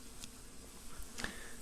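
Honey bees buzzing at a beehive during a hive inspection, a faint, quiet hum with a couple of brief louder buzzes as individual bees pass close by.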